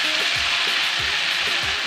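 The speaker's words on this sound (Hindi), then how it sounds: "अब इसके साथ हम इसके अंदर ये शिमला मिर्च ऐड करेंगे, इसको भी हम इसके साथ थोड़ी देर के लिए कुक करेंगे।" Peas and capsicum cooking in a pan for a Pakistani mixed vegetable sabzi: a loud, dense sizzle fills the whole moment, with soft stirring scrapes recurring about every half second.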